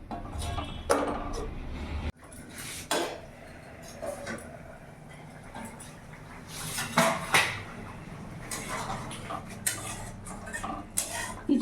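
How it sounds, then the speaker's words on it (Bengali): A lidded pot of fish curry with potatoes is set on a gas stove with the flame turned up. Close metallic clanks and scrapes of lid and cookware come in irregular bursts over a steady hiss, with no talking. "এবার ঢাকা দিয়ে কিছুক্ষণ ফুটিয়ে নেব।"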